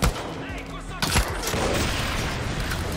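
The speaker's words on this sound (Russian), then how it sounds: "Ох, тут что за взрыв?" A burst of gunfire and a booming explosion in the video game Far Cry New Dawn, with a sharp hit near the one-second mark followed by a sustained rumbling roar.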